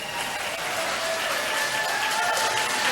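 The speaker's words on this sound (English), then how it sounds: "If you can hear above the applause there." A crowd at a 1984 New Zealand election night gathering keeps up loud, continuous applause, a dense roar of clapping that may carry faint crowd voices.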